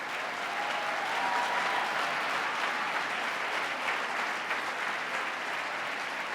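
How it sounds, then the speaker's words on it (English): Audience at a governor's agenda address breaks into sustained applause, a broad even wash of many hands clapping at moderate distance, with a faint whistle or voice rising briefly in the background. "Give them a big round of applause."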